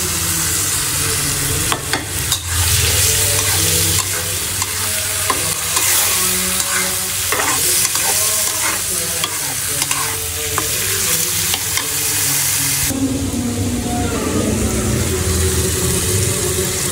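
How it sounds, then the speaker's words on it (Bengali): Dal being stir-fried (dal bhuna) in a pan at home: continuous loud sizzling with repeated scraping strokes of a spoon, the frying tone shifting and softening near the end. "এখন হলো আমি ডাল ভুনা করব"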